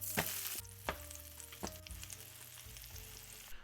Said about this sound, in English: now that that butter's all nice and melted, we're going to toss these buns down